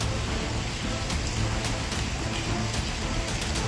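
Heavy, steady rain pours down on flooded town streets, a dense continuous hiss of water with scattered drops spattering close by.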